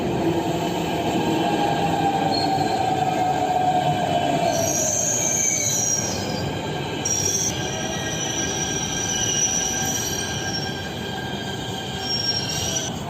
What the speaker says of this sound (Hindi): तो ये लो दोस्तों ट्रेन पहुंच चुकी है और इसी में मुझे आगे का सफर तय करना है।